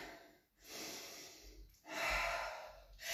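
Deep breaths taken during a morning exercise routine, two long airy exhalations close to the mic with a short pause between them, quiet and alone.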